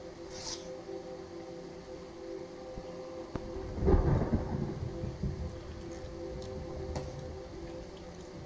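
In the DayZ survival game, steady rain pours while a deep roll of thunder swells up midway and slowly rumbles away, with a few sharp clicks scattered through it.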